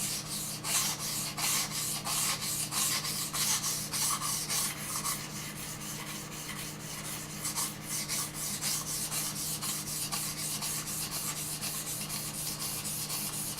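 Knife blade stroked back and forth on a 1000 grit whetstone, a rapid run of gritty scraping rubs in an even rhythm, close and moderately quiet, continuing without pause.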